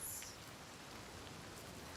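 Steady rain pours down in the Hellblade 2: Senua's Saga video game, a constant even hiss with no breaks, loud and close, with no voices.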